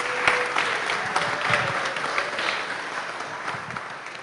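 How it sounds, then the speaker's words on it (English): An audience at a 2013 Little Rock Startup Weekend applauds after a pitch, a steady wash of clapping heard from a distance and fairly soft in a large room. "round of applause to everybody who presented today"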